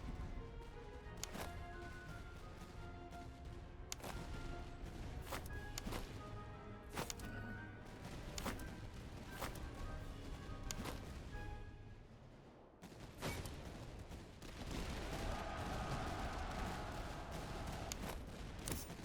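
Musket volleys crack across a battlefield in the Napoleonic-era strategy game Master of Command, with repeated sharp shots scattered at irregular intervals over a constant rumbling din of battle, then a denser burst of fire toward the end.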